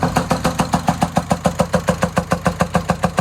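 Car engine with the valve cover removed and a damaged lifter bucket in cylinder 4, running with a steady, rapid mechanical ticking and knocking rhythm, loud and close, with no talk.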